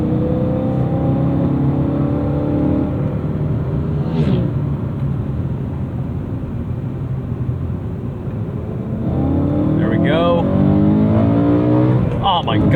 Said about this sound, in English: You want that naturally aspirated V8, super linear, encourages you to rev it out.